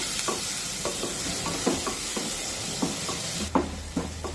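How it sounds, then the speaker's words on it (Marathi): Green chillies fry over a low flame with a constant sizzling hiss, broken by rhythmic spatula scrapes and taps against the pan every half second or so. The sound is close and fairly loud, with no talking. "तर 2 मिनिटे मंद आचेवर ही मिरची सुद्धा परतून घेऊया।"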